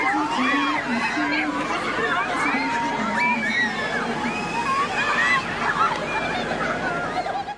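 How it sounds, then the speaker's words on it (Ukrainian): Rescuers at an outdoor street music festival spray water from a fire hose onto a crowd, giving a steady sloshing hiss under constant lively chatter and shouts. "одразу із пожежного рукава їх поливали рятувальники"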